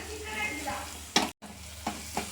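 Tomatoes with curry leaves sautéing in a pan for a tomato thokku, a continuous soft sizzle broken by a few sharp stirring scrapes and a brief gap of silence.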